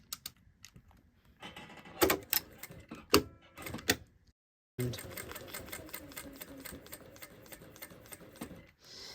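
Sewing machine stitching around the lining of a jacket sleeve while it is being shortened: bursts of rapid, even mechanical clatter, near and fairly loud, then a steadier continuous run after a brief gap.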